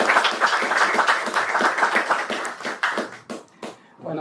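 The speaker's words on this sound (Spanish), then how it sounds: "Recibamos con un aplauso a" An audience at a lecture on early Christianity claps, welcoming a painter to speak. The applause is steady and fairly close, then thins into scattered last claps and fades toward silence.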